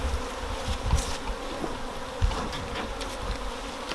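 Agitated honey bees buzz loudly and continuously during a colony inspection, a dense close hum with passing individual bees swelling in and out.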